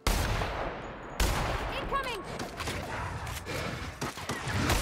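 An energy weapon firing in the game The Outer Worlds, several sharp zapping shots and bursts spread over a few seconds, with whooshing sweeps and background noise between them.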